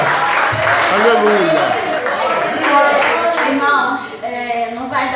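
Church congregation clapping and applauding during a thanksgiving service, steady loud applause throughout with a preacher's voice and singing-like speech over it.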